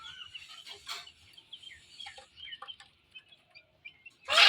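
Chickens cluck and squabble while competing for food in a rural yard, giving faint, scattered calls with a sharper burst of commotion at the end.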